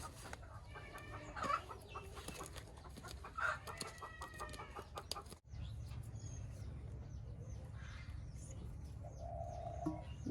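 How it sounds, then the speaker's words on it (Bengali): Nearby desi (native village) chickens cluck and a desi rooster calls in short bursts over a steady low background hum, with a brief dropout midway. "এই দেশি মোরগটা আমার মা নিয়ে এসে"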